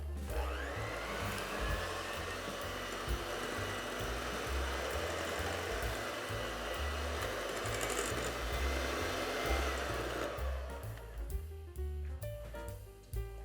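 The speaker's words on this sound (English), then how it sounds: "while I'm whisking, I'm going to add an egg at a time and whisk it in before I add the other one" An electric hand whisk beats eggs one at a time into marmalade loaf cake batter, a steady close whir running continuously for about ten seconds before cutting off.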